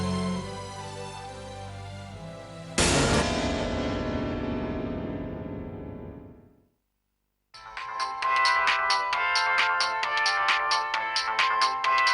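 A phone ringtone plays a melodic tune that fades to silence, then starts again brighter and louder with quick repeating notes, heard alone without speech.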